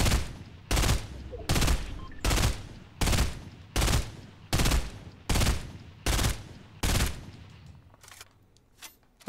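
A burst assault rifle in the video game Fortnite fires loud, evenly spaced bursts, about ten in a row at a slow, steady rhythm, with softer clicks trailing off at the end.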